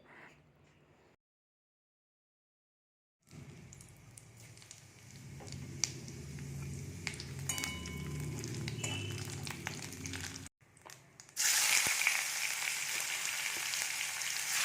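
Fish and prawns cook in a pan for a home-style fish curry, giving a steady close sizzle and spatter that grows louder and brighter toward the end after a silent gap.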